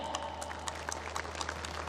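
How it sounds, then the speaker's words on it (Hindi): An audience at a school event gives brief, soft applause welcoming students to perform, scattered claps blending into a low steady hum in the room. "कृपया तालियों के साथ उनका उत्साहवर्धन करें"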